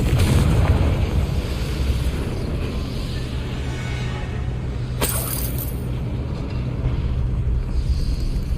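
Confringo spell blast from Hogwarts Legacy, a sharp burst of impact near the middle cutting through a steady rumbling game ambience, with a bright crackling flare trailing briefly after.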